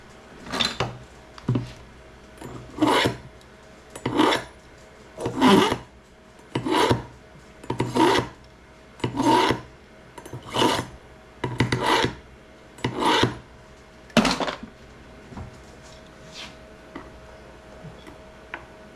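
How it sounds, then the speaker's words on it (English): A small kitchen knife being sharpened with about a dozen distinct rasping strokes in a steady rhythm, each a short gritty scrape, close and clear with no talking. "And I'm going to sharpen this little booger."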